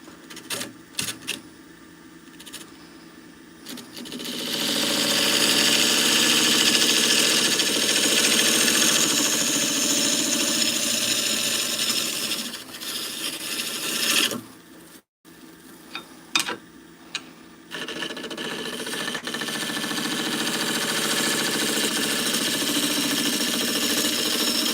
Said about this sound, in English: Trying to use a spindle gouge on a bowl in case you're wondering what's going on here.